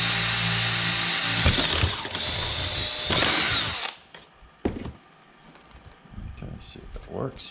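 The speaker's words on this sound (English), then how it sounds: "That way I can drill a hole in it and stick it in there." A power drill whirs loudly and steadily, boring a hole in a skull decoration, then stops, followed by quieter handling knocks and a voice speaking nearby.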